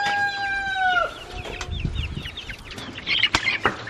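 Backyard chickens clucking and a rooster's drawn-out crow up close, followed by scattered soft clucks and rustling movement.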